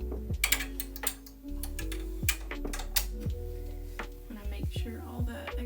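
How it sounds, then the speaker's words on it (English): An embroidery machine stitches satin stitches onto a sweatshirt appliqué bow with quick, close mechanical ticking and whirring that comes in irregular bursts with short pauses. "So we're gonna go ahead and load it, and the last stitch will be the satin stitches."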